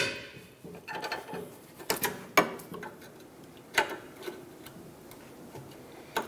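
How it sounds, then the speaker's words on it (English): A wrench works on rusty rear caliper bracket bolts on a 2008-2013 Nissan Rogue. Faint ratcheting clicks are broken by several sharp metallic snaps and knocks at irregular intervals in a quiet garage. "just going to get that wrench on there and go ahead, break that free"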